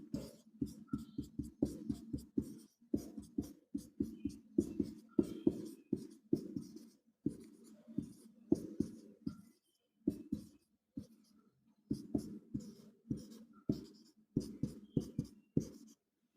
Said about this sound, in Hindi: T और R के बीच में मैं अल्फ़ाबेट लिख दे रहा हूँ